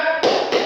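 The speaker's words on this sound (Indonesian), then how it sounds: "Oh ternyata itu adalah suara tepuk tangan." Two sharp hand claps in a classroom, close and loud, about a third of a second apart with a short ring after each.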